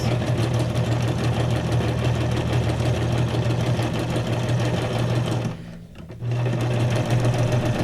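A sewing machine runs steadily at a fast, even stitching rhythm, close and continuous, with a brief pause near the end before it resumes.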